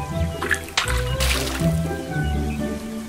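Cartoon river water splashing and sloshing continuously as characters hop across rocks, with a layer of background music running beneath it.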